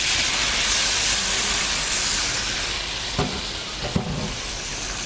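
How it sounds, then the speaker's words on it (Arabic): Onions hit a thin layer of hot oil and fry with a loud, dense sizzle that eases slightly partway, broken by two sharp utensil knocks near the end. "بحط شويه زيت خفيف بعدين بنزل البصل على طول"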